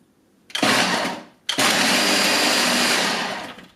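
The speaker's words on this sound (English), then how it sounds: "The Ninja did a decent job of creaming the butter and sugar." Ninja Kitchen System blender mixing cookie dough of creamed butter, sugar, eggs and vanilla, two close loud motor bursts: a brief pulse then a longer whirring run that winds down.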